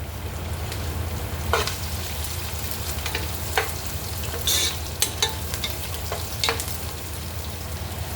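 Sliced onions and green chillies sizzle steadily in hot oil and ghee, a continuous close frying crackle with occasional sharper pops and stirring scrapes.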